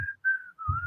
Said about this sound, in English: She's whistling "Somewhere Over the Rainbow."